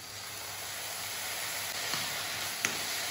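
Vegetables frying in a pan as tomato ketchup and soy sauce are added, a steady hiss and sizzle with two brief louder spits near the end.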